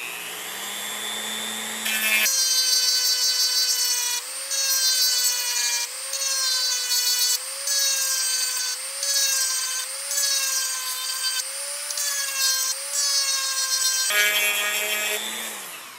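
A small sanding drum on a rotary tool grinds a polymer Glock pistol frame to cut a magazine release scallop, a loud, steady high-pitched whine with brief pauses as the drum is lifted and pressed again.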